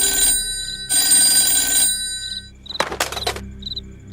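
A telephone rings in two long trilling bursts separated by a short silence, clear and near, followed by a few quick thumps and a faint, soft beeping tone.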